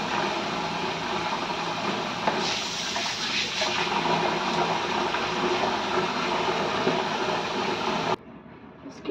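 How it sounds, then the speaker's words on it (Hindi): Running water washes besan paste off feet in a bathroom, a steady, loud splashing stream for about eight seconds before it cuts off abruptly. "थोड़ा पानी देके उसे उतार लीजिए।"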